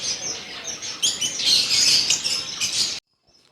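Many small parrots and ground birds chirp and tweet together in a crowded bird shop, a dense, steady chorus of bright calls that stops abruptly near the end, leaving a short near-silence.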